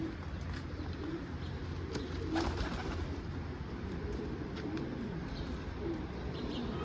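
Low, soft cooing of a black pied posta pigeon landing in a garden repeats under a steady background hum, fairly faint and close by.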